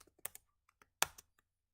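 Computer keyboard keys clack in a few scattered, close taps with brief pauses between them and no voices.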